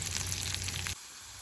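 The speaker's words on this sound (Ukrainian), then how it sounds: "Кладу на сковороду сало, воно в мене перемелене і розтоплюю його." Minced pork fat (salo) melting and frying in a pan for green borscht, a loud dense sizzle that cuts off abruptly about two-thirds through, leaving a quieter hiss.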